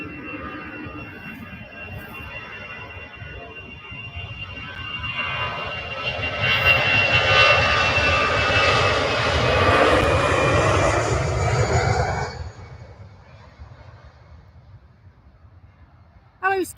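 An airplane on the runway at Manchester Airport builds into a loud, broad engine roar that holds for several seconds and then drops away, over steady background rumble, with voices nearby.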